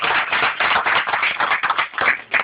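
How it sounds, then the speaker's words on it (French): Applause from a theatre audience in a small hall, loud nearby clapping that surges and dips in uneven waves. "Il faut applaudir."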